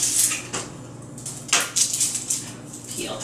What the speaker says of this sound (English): So I'm going to go ahead, cut this onion